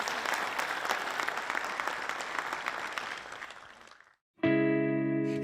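An awards show audience gives loud, sustained applause for four seconds, then a brief silence, then music.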